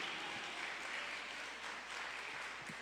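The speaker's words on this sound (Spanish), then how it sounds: "Denle un aplauso a su Padre, hermano." A church congregation applauds during a service, a soft, distant and even wash of clapping with a low steady hum underneath.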